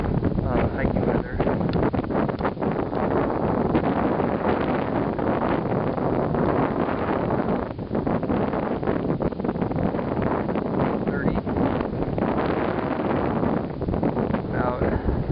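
Wind on a mountain hiking trail buffets the microphone as a loud, continuous roar of rushing noise with small gusty fluctuations, filling the whole stretch.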